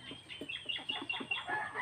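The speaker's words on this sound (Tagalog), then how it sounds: "yung mga manok natin tita" Chickens raised as livestock at a Philippine home cluck in a steady series of short, close calls, with a few higher squawks, and no talk over them.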